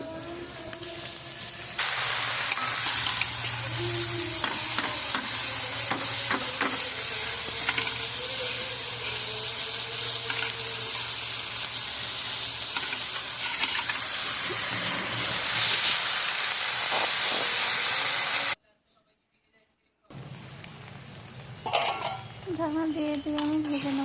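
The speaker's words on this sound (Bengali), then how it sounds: "এবারে এর মধ্যে আলুগুলো আমি সব দিয়ে দেবো" Potatoes fry in a pan with spices, onion paste and green chillies, making a loud, continuous sizzle close by. Metal stirring clinks run through it, and it drops out briefly before resuming.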